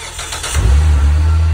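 A Hyundai car engine catches and settles into a deep, steady rumble as the car is pulled forward. The sound is loud and close, with the low hum rising after a brief quieter start.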